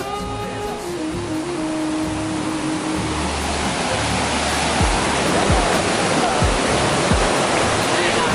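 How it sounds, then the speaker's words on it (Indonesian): Water rushes loudly and steadily along the Sungai Perata river, a close, continuous roar that swells a little toward the end, with a few soft knocks underneath. "So, hari ni kita ada dekat sungai."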